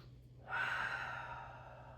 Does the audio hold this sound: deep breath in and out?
yes